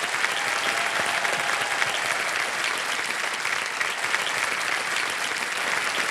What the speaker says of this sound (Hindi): और ताली बजती रहे क्योंकि अब चेक आ रहा है जनाब।